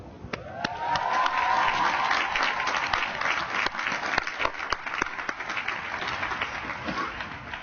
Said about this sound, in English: Don't clap too long because I have 5 minutes.